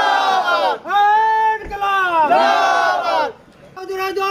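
A rally crowd shouts a political slogan in unison, several loud sustained chanted bursts with pauses between them, voices massed together close and strong.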